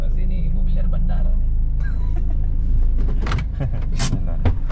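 A car drives away from the airport with a loud, steady engine and road rumble inside the cabin, and people talk over it with small rattles and clicks.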